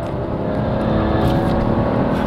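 A BMW 335i Sport pulls hard in third gear around a curve, its engine droning loud and steady from inside the car with a rising, sustained growl and no talking.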